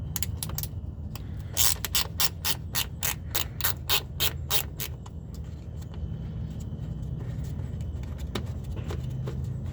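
A hand ratchet wrench works on a car's single exhaust system, giving a quick run of sharp, evenly spaced clicks early on, then sparser clicks over a steady low rumble, close up with no talk.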